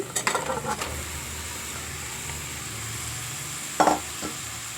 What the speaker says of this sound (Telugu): ఇప్పుడు బీరకాయ ముక్కలు వేసుకుందాం